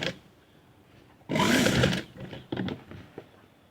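A sewing machine stitches a jacket seam in a short, loud burst of about three-quarters of a second, followed by a few brief, quieter stitching runs and clicks.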